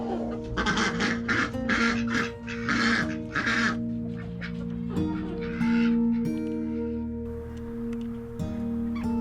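Ducks quack repeatedly in loud, overlapping bursts as a flock files into a coop, with a steady low hum running underneath throughout.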